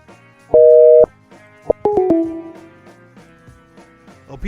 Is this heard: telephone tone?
yes